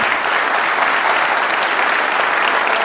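Thick, continuous clapping from a large crowd at a print summit stage event holds at a steady volume for the full stretch, with no pauses.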